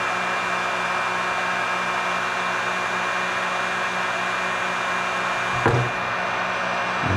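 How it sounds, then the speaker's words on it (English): A heat gun blows a steady, loud whoosh of hot air over fresh paint on a Fire Tiger fishing lure, continuous throughout with a brief bump near the end. "And put that under the heat for a second or two."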